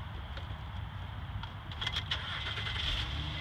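A 2012 Honda Ridgeline RTL 4x4 pickup's engine cranks and catches partway through, a faint low rumble rising out of quiet background noise.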